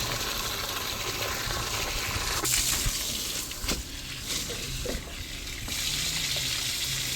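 Finger millet (ragi) is washed by hand under running water, producing a continuous near splash and trickle with intermittent swishing as the grain is stirred.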